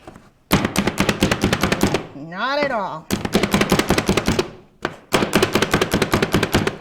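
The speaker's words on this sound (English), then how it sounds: "Do you like chopping onions?" Onions being chopped with a chopping tool in a home kitchen, a rapid run of sharp, rhythmic knocks in close bursts, broken by a brief pause and a short spoken reply.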